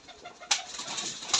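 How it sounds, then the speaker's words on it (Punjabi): Pigeons kept by a pigeon fancier coo close by, with soft low calls rising into a louder burst that may include wing flutter, over faint background noise. "ਕਿਆ ਕਬੂਤਰ ਹੈ ਯਾਰ ਉਹ ਵੀ ਮਾਸ਼ਾਅੱਲਾ"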